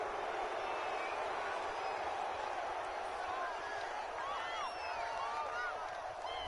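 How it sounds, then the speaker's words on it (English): A stadium crowd in a football video game roars in a dense, sustained wash of displeasure after a penalty call, loud and continuous throughout with scattered shouts and whistles cutting through the noise. "Well, this crowd does not like that call."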